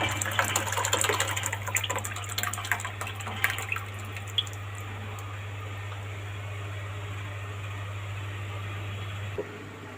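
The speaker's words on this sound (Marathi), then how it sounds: "मी आता पाणी ओतून घेते याच्यामध्ये" Water is poured into a cooking pot of boiled dal while sambar is made, giving a steady splashing gush that is loud at first and eases off, over a constant low hum, with no talk.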